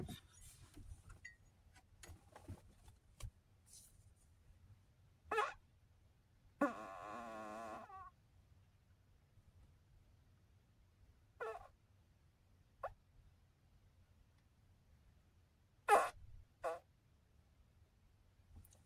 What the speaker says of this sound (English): Let me just squeeze this fart out and then we'll get out of here.